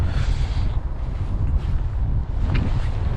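Steady wind buffets the microphone outdoors beside the water while fishing, a constant low rushing roar filling the whole stretch without pause.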